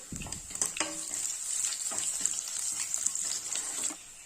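Crushed ginger and cut dried red chilies fry in hot oil with a bright, continuous sizzle, a few sharp clatters of stirring near the start, then a steady hiss that fades out at the end.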